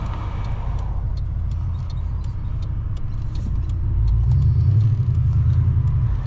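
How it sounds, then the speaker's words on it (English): An HSV VS Manta drives along with a steady low engine and exhaust rumble under road noise, which swells louder toward the end. "And even the exhaust, like, yeah, it sounds great, but it's not too loud, it's not too much."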